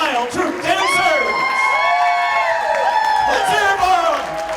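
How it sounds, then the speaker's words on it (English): A wedding crowd cheers and whoops for the Emerald Isle Troop Dancers, loud and close, with shrill shouts and excited voices layered over some clapping. "a round of applause for the Emerald Isle Troop Dancers"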